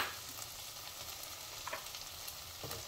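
Potato and brinjal pieces hit a pan of thick, mashed tomato gravy, giving a faint, steady sizzle with a few soft stirring knocks and no talking.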